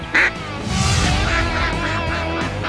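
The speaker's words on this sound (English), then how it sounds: "Here's what a good call sounds like." A game character's duck call in the Duck Dynasty video game gives a sharp quack, then a steady run of loud, reedy quacking calls that continues without pause to the end.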